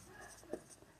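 A pen scratches briefly across paper during a Class 12 maths lesson on 3-D vector equations, producing a faint, short stroke with soft friction and no voices.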